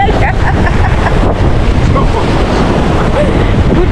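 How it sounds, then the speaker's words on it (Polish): Atlantic surf washes and churns continuously at a beach in the Exumas, loud and close, with heavy wind buffeting the microphone throughout. "się boi, że go fala wyniesie."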